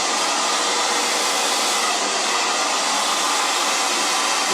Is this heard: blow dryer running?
yes